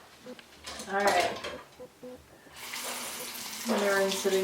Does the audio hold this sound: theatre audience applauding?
no